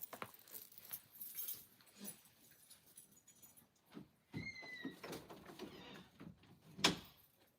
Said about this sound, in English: I think I'm gonna get up and shut my door